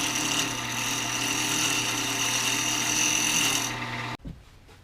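Wood lathe turning the inside diameter of a segmented wood sculpture, a loud steady whirring drone with the scraping of a tool on wood, running continuously before cutting off abruptly near the end.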